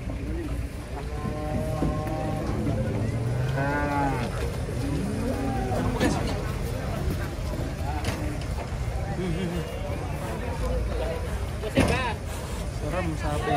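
Black cattle low repeatedly in a crowded, noisy outdoor gathering, several moos rising and falling over steady crowd chatter and background rumble.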